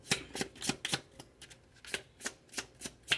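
Large tarot cards being shuffled by hand in repeated quick riffling bursts, each a short crisp flutter with brief pauses between, close and fairly quiet with no talking.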